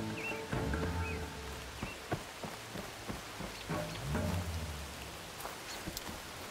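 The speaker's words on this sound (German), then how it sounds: "Es regnet doch" Steady rain patters throughout in the video game Horizon Forbidden West, with scattered sharper drops and a soft musical tone underneath, fairly quiet and without talking.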